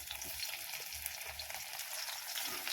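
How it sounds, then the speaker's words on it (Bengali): Okra sizzling in hot mustard oil in a pan, a steady close, bright frying hiss running unbroken from start to finish with no voices. "সর্ষের তেল তো তেলটা আমাদের গরম হয়ে গেছে এবারে ভেন্ডিগুলো দিয়ে দিচ্ছি"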